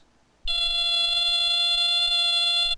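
A school smoke detector sounds its alarm, a loud, piercing, steady electronic tone that starts abruptly and holds unbroken for about two seconds before cutting off.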